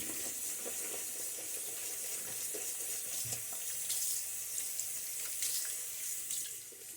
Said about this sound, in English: Tons of soap in this brush. It took a second to rinse it away.